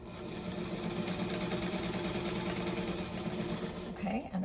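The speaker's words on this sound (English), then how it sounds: "Now I'm getting to the pin, so I'm just slowing down a little bit so that I'm sewing over it." A sewing machine runs at a slow, steady pace as it stitches over a pin, a continuous close motor hum that ends in a brief pause and a soft voice.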